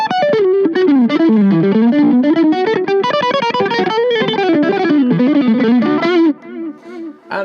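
Boss Katana Mini X amp playing an electric guitar with a distorted brown-sound tone, loud and continuous chords and runs, ringing out at the end.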